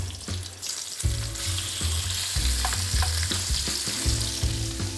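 Shrimp sizzling in a hot frying pan, a loud continuous crackling hiss with bursts of spitting oil, close up and with no talking.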